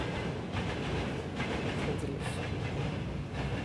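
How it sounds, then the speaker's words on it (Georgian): A loaded freight train rumbling past close to a house, heard from nearby as a continuous heavy roar with faint rhythmic clatter of wagons, steady and loud for the whole stretch. "დატვირთული მატარებელი რომ მოდის,"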